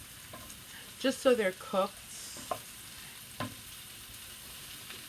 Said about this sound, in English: I'm throwing them into the pan. And you just kind of stir fry them a little bit